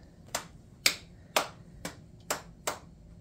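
Single sharp hand claps used as a sound cue during adapted sports activities for people with visual impairments, six crisp separate claps spaced roughly half a second apart in a quiet room.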